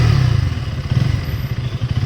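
A KTM motorcycle engine runs close by with a loud, low, throbbing rumble and quick rhythmic pulses, heard alone for about two seconds.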